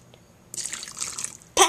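A quarter cup of water poured into a cooking mixture, a short close splash and trickle lasting about a second, then a brief sharper splash at the end, quiet and with no talking.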